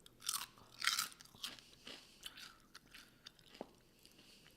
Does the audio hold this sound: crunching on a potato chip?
yes